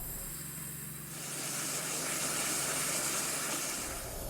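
Insecticide fumigation spraying in a Breaking Bad scene, a loud, broad hiss that begins after a quieter stretch and holds steady like pressurized spray, alone without speech.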